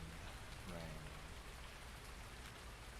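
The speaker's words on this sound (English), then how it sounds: "And it is raining." Steady rain hisses across the whole clip in the Farming Simulator 19 farming game, a dense, even patter with a faint low rumble beneath and no clear voices.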